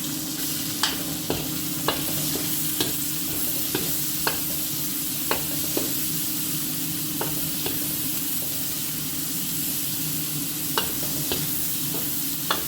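Garlic and onion sauté in a hot pan with a steady, loud sizzle, while a utensil taps and scrapes the pan at regular intervals, close up with no voices.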